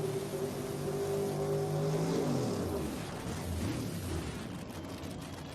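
A nitrous-aided Chevrolet Nova drag racing down the quarter mile at a world cup finals event roars loudly, its engine pitch climbing and then dropping as it shifts, with a constant wash of track noise.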